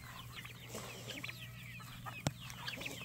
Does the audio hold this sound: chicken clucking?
yes